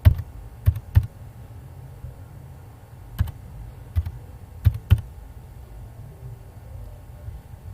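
Keys on a computer keyboard are tapped to enter an invoice number, a handful of sharp separate clicks in small clusters with quiet gaps, close and alone.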